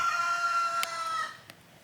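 A village rooster crows one long, clear call close by, with a sharp click partway through, before the crow fades out.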